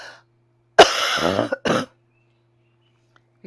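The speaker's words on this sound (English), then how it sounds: "And cough." A single forceful cough as part of a breathwork exercise, close and loud, with a short harsh burst followed by a second brief hack, then quiet breathing.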